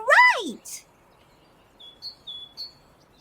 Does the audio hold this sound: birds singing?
yes